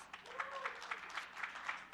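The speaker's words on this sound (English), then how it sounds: "Let's give them a huge round of applause." Scattered, fairly quiet applause from a conference audience thanking a group of lightning-talk speakers, with soft irregular claps and a faint voice or tone briefly audible over them.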